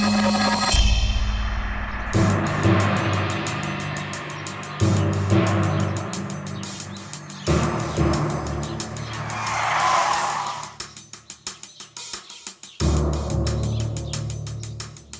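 A car pulls away with tires skidding and squealing, engine revving hard, followed by repeated bursts of tire screech and passing engine noise over about fifteen seconds, with abrupt cuts between loud, close passes.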